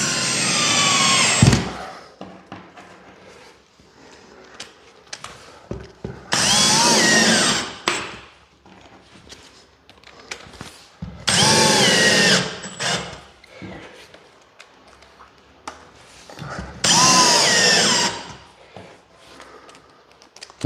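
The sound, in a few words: power drill driving screws into timber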